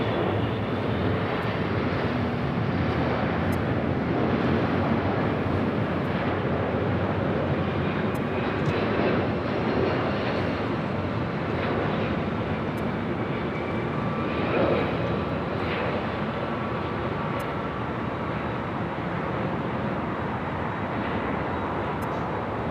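Delta passenger airliner landing at LAX after a flight from Chicago O'Hare, a loud, continuous broadband engine roar that holds steady throughout with no talk.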